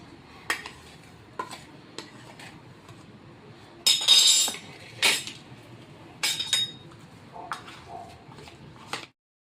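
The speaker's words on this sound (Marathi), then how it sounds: "हे सगळं साहित्य असं हाताने मिळवून घ्यायचं आपल्याला." Spice powders and salt being mixed by hand into a stuffing in a bowl, giving soft rustling squelches with intermittent clinks of a utensil against the dish, close and moderately loud, with no talk.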